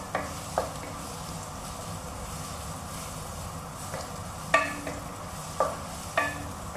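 Steady frying sizzle of garlic in a pot, with a few sharp clinks and scrapes of a utensil stirring now and then.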